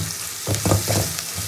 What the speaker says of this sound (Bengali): এবার পেঁয়াজটাকে খুব ভালো করে ভাজবো।